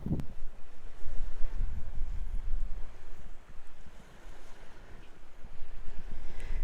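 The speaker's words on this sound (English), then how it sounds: "though it can be windy" Gusty wind buffets the microphone in uneven low rumbles, rising and falling throughout, with a faint outdoor background.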